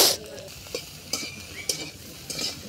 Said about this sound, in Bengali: এখন আমার এই যে রসুন ভাজা হয়ে গেছে